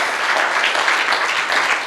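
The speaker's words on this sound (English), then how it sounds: "Give him a round of applause" A loud, steady round of audience applause at a talk on content creation, dense crowd clapping filling the room without any speech.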